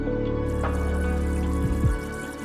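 Tap water running steadily into a sink over a burned hand, a continuous close splashing stream with a couple of brief tonal bumps, no talking.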